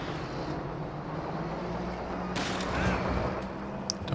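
Sniper rifles firing in a Company of Heroes 2 multiplayer battle: sharp gunshot cracks ring out against a steady low rumble of combat, with a louder burst of fire near the end.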